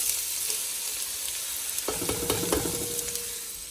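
Red onion and vegetables fry in oil with a steady, bright sizzle that swells when they hit the pan partway through, then carries on with light stirring scrapes and no speech.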